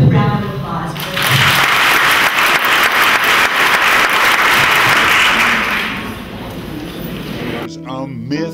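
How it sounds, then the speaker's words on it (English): An audience gives sustained applause at a talk on tiny houses for older adults, a broad wash of clapping that swells after the first second, holds steady, then fades before a voice begins speaking at the end. "a round of applause for him"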